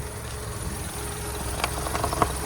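Volkswagen Touran with a 1.6 MPI naturally aspirated petrol engine idling with the bonnet open, a steady low hum with a few light clicks and taps near the end.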